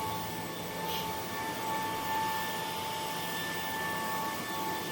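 BUSYBUDY TD1-Mate cordless vacuum cleaner running steadily, a constant whirring hum with a high whine, close and alone without any speech.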